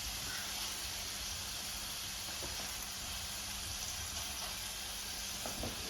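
Meatballs sizzle and brown in a crowded frying pan, giving a steady, even hiss with no break and a few faint pops, close up and quiet, with no talk.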